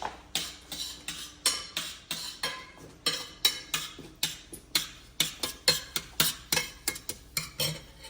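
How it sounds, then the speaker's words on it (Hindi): Spoon or utensil repeatedly clinks against a metal bowl while kasuri methi is stirred into a kachori filling, halwai style; steady rhythmic scraping and tapping, close and fairly loud, with no talking. "थोड़ी सी कसूरी मेथी, इसको अच्छे से मिक्स कर लेते हैं।"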